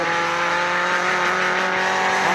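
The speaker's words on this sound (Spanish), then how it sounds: "Ahora vamos con los frenos de emergencia, a ver si frena o derrapa" Game car under hard emergency braking, holding a loud, sustained tire screech with a droning engine beneath it, steady and close for the whole stretch.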